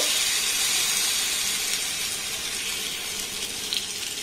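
Batter poured into hot oil in a pan for a Bengali snack made without wheat flour or maida, giving a steady close broadband sizzle and hiss throughout with no talk.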